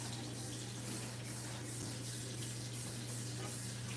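Water from a tap runs steadily into a sink to soak a wooden biscuit-making board, a quiet continuous splashing over a low hum, with no talking.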